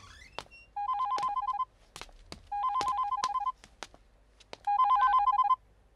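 A telephone rings in three separate bursts of rapid electronic trills, each lasting under a second, with short quiet gaps and faint background noise between them.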